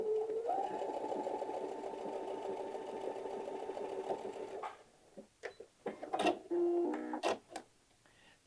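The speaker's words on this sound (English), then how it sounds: "I'm going to sew across." Sewing machine stitching quilt block pieces, a fast steady whirring run of stitches for several seconds, then it stops, followed by scattered clicks and fabric handling sounds.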